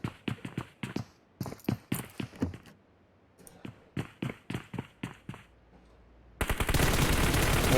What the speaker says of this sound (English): Prince firing away at Vibrant